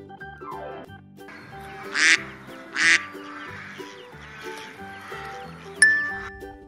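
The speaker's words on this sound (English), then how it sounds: "Duck." Duck quacks sound in two loud bursts and softer calls over a repeating musical backing, ending with a bright chime-like hit.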